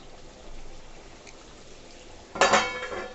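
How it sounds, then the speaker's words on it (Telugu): A lid is lifted off a simmering pot of gongura chicken: quiet background, then one sharp metallic clatter near the end. "మూత తీసి చూద్దామండి"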